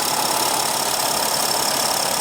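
A 2015 Mercedes-Benz GL350 with a 3.0 L diesel V6 runs at a steady idle, a close, even drone with a light rhythmic clatter and no other sounds.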